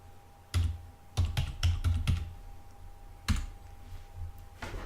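Close, clattering keystrokes on a computer keyboard come in an uneven burst of several quick presses, then a pause and one more firm tap, over a quiet room hum with no speech.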